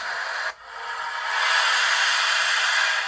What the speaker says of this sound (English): The basic steam sounds.